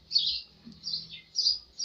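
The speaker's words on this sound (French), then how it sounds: "il y a le chant d'oiseaux qui sont avec moi pour m'accompagner dans cette aventure aussi" Birds chirp and sing outdoors in a few bright, repeated bursts of short tweets, close and fairly clear over a quiet background with no talking.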